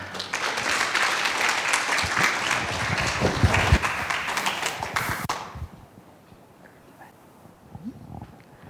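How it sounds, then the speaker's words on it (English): An audience at a plant-based diet talk claps for the introduced speaker, a full burst of applause for about five seconds that stops abruptly, leaving quiet room tone with faint movement. "So a big round of applause to Ms"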